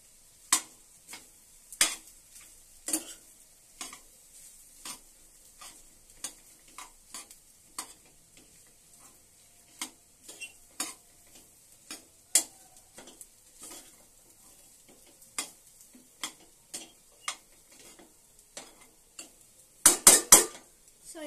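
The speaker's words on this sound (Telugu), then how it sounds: "ఇప్పుడు మనం మిక్స్ చేసుకోవాలి." Food being mixed in a pan for fried rice, with a utensil scraping and clinking against the metal in irregular sharp taps over a quiet background, ending in a quick flurry of clatters.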